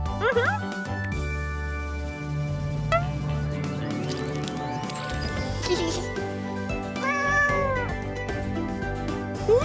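Several cats meow in bursts over a busy bed of music and other noise, the calls rising and falling close by, with a voice speaking in places.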